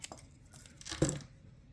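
A sheet of paper is cut in half while making Christmas tags, a short close rasp of paper swelling to one sharper snip near the end, quiet and alone.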